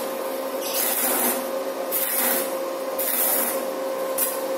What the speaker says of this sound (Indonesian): langsung kita las seperti biasa teman-teman, pengelasan biasa saja